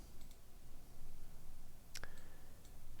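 One or two sharp, faint mouse clicks land on a compile button over a quiet, steady background hum.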